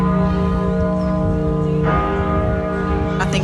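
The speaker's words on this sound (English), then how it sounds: "bells have been ringing out at churches" Church bells ring out steadily near York Minster on a day of national mourning for the Duke of Edinburgh, a dense sustained peal of overlapping strikes filling the whole stretch at constant loudness.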